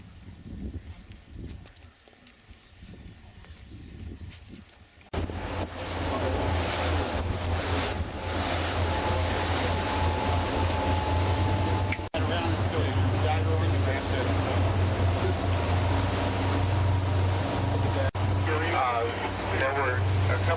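Wind and water wash against a cruise boat heading through the Death's Door passage, a steady loud rumble of engine and waves. It starts quieter, then swells into constant roaring noise, with voices mixed in.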